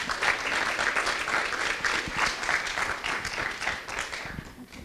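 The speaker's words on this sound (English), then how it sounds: "So one more round of applause for our literacy leaders." An audience at a literacy council meeting gives a sustained round of applause for literacy leaders, dense clapping at a steady level before tapering off near the end.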